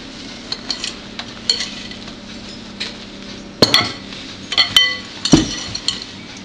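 A whisk stirs stiffly beaten egg whites into chocolate batter for a fondant au chocolat, with scattered soft scrapes and a few sharper clinks against the bowl, close and unaccompanied by any talk.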